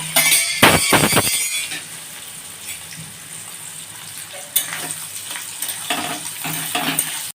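Onions frying in a pan, a sizzling hiss after a few sharp clatters as they are dropped in, then occasional stirring scrapes and utensil clinks.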